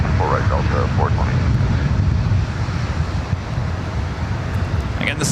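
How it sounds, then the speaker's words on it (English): A Boeing 787-10 Dreamliner on its takeoff roll down runway 24 right at LAX fills the air with a loud, steady jet-engine roar and wind rumble, while voices talk over it. "this is Flight 602 heading back to Amsterdam in the 787-10 Dreamliner, rolling down at 24 right"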